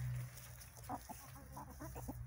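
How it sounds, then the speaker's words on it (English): Soft clucking from chickens, a few short murmured calls in a row over a low steady hum, fairly quiet and close by. "I just love these chickens so much."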